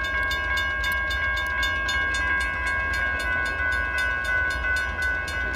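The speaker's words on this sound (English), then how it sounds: "Right now, this train is just blocking this crossing." A Norfolk Southern train stands at a road crossing at Emmons Boulevard in Wyandotte, Michigan, giving a steady, loud mechanical hum and drone with a rapid, even ticking rhythm running throughout, close by and with no voices.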